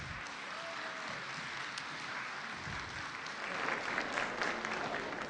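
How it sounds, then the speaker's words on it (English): An audience at the Celebration 2024 gathering applauds in a soft, diffuse wash of many hands. It sounds somewhat distant and grows a little louder toward the end. "So let's give a warm round of applause."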